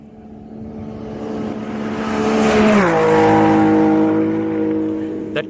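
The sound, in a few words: rally car passing at high speed, 195 kph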